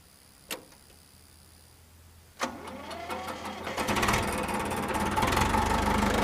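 A white Hindustan G 804 DI tractor with self-start is started up: a faint click, then a sharp jolt, cranking, and the engine catching into a loud, steady, rumbling run close by.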